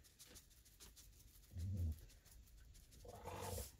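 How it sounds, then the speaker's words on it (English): Low dog growls rumble in two brief bursts, one around the middle and another near the end, faint and close in a quiet homestead kitchen. "Cassie, what are you growling about?"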